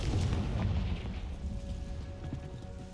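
An explosive Confringo spell in Hogwarts Legacy bursts as a deep, loud boom that rolls into a steady low rumble and slowly fades.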